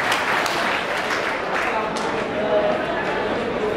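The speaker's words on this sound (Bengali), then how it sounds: "আমরা সব তাকে সবাই করতালি দিয়ে তাকে একটু উৎসাহ দিই।" Dense, continuous audience clapping at a physics alumni association gathering in Pabna, steady and fairly loud through the whole short stretch, with a crowd murmur mixed in.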